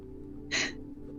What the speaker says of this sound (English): You hear a gasp.